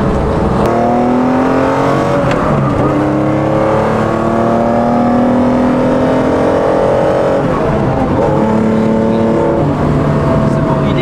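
Porsche 911 engine revving loudly in repeated rising and falling bursts, close and harsh over about eleven seconds, with no talk.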